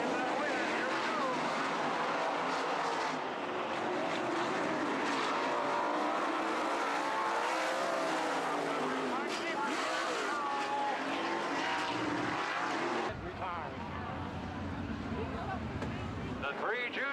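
410 winged sprint cars racing on a dirt track in Jacksonville, Illinois, engines roaring and rising and falling in pitch as they pass, loud and continuous over a long stretch, with a commentator talking over them.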